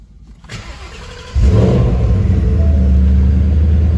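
A 2020 Shelby Super Snake with an 825 hp Coyote V8 cranks and fires after a brief starter whir, then settles into a loud, deep, steady rumble heard close up with no talking.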